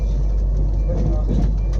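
A steady, loud low rumble with rhythmic rattling, like a train rolling along the tracks heard from inside a carriage, as a passenger train passes a railway station.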